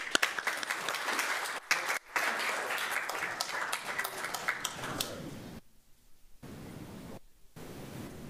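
Applause from a small group at a county recreation and parks board meeting: brisk, close clapping for several seconds that breaks off abruptly, then fades into a quieter patter with dropouts.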